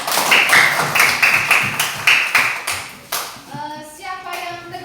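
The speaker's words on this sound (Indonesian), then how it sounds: "Oke, tepuk tangan untuk temannya." Classroom of students claps for a classmate in a rhythmic, patterned burst of hand claps, close and fairly loud, ending with a short spoken phrase.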